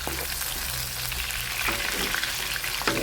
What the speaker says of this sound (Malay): kita goreng dulu kulit ayam ni sampai garing ya